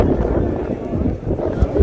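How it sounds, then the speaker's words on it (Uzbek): Gusting wind with rain buffeting the microphone at an outdoor bull market, a continuous loud rumbling roar with someone talking over it. "Shamol yomg'iri bilan uryapti lekin"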